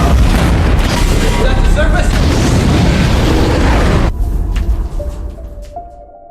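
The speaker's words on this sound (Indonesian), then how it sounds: "Memanfaatkan kesempatan itu, ia melemparkan korek api ke Hugh tersebut, sehingga memicu gas dan meledakkan dapur." A loud, rumbling gas explosion in a kitchen fills the clip, sustained and booming, then fades into a quieter aftermath with faint tones.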